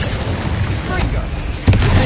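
The Incendio fire spell is cast in the video game Hogwarts Legacy, heard as a dense roaring whoosh of flame with a heavier burst near the end, loud and continuous, with a voice speaking over the effects.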